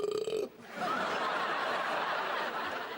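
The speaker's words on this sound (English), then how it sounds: "Big, solid beer-flavoured belch." A big, drawn-out beer-flavoured belch, loud and rough, follows a brief voiced sound at the start and rolls on for over two seconds before tapering off, with a hint of snickering.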